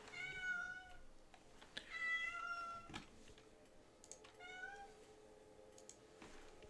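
A house cat meows several times in short, rising cries spaced a second or two apart, fairly faint and indoors, with occasional keyboard clicks and soft background noise.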